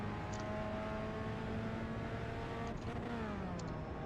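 Pontiac Solstice race car in iRacing holds a steady engine drone at speed on a lap, then the pitch drops as it slows and shifts, with faint tire noise.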